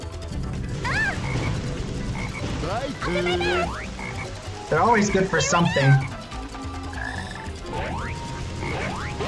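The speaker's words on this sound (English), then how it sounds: "There's that black frog again." A black frog in Sonic Heroes croaks repeatedly amid busy game sounds, with chirpy cat-like calls mixed in and a person talking over it.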